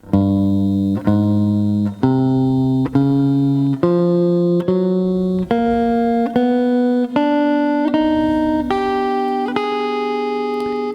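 Electric guitar finger drill played as a continuous run of single notes stepping up across the strings without pausing, about a dozen evenly spaced, sustained plucked tones climbing in pitch, close and clean with no talking.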